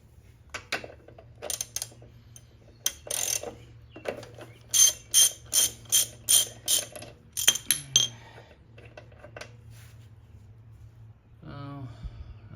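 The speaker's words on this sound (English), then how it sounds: "Alright, so let's start with the spark plug first. And grab the wrong size socket." Ratchet socket wrench turning while removing the spark plug from a John Deere JS20 walk-behind mower, a run of about eight sharp metallic clicking bursts close up, with brief taps before and after and a low hum underneath.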